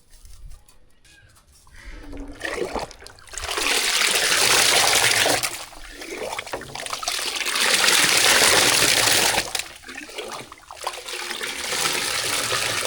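Panakam, a drink made with dry ginger and cardamom powder, is stirred in a vessel, giving bursts of sloshing, swirling liquid that swell and fade across the stretch with no talk.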